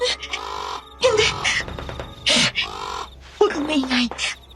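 Loud crow caws ring out repeatedly in a tense aswang horror tale set in a feared village, overlapping with dramatic voices speaking nearby.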